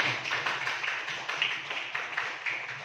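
Fifth-grade pupils in an elementary school classroom applaud together, a dense, continuous patter of many small hands lasting a few seconds at moderate loudness.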